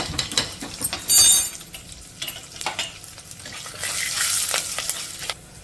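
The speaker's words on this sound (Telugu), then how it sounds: "చూడండి పోపు బాగా వేగింది" Tempering spices with curry leaves and turmeric crackle and sizzle in hot oil while a spoon scrapes and stirs the pan in short, uneven strokes.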